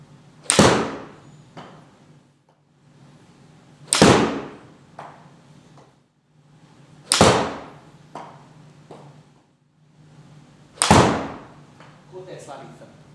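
Golf iron shots struck during a club fitting session: four sharp, loud club-on-ball impacts about three seconds apart, each followed by a brief whoosh decay, with faint background murmur between strikes.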